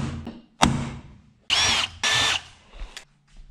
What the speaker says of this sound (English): Now I'll just get those drilled out with the 5 millimeter.